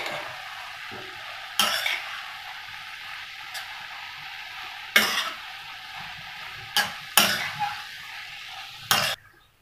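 Cabbage and chana dal bhaji is stirred in a pan with garam masala and coriander, a soft sizzle underneath with a handful of sharp spoon-scraping strokes spaced a second or two apart.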